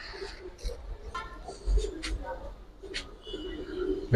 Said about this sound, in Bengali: একটা মাদি কবুতর পায়ে একটা ট্যাগ আছে